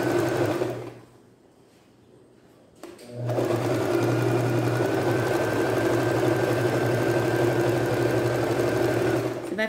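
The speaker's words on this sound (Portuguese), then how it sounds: "Essa máquina que eu estou usando é a Singer Start" A Singer Start 1306 sewing machine stitches a simple blouse, a loud steady mechanical hum close by, stopping for about two seconds near the start before running on continuously.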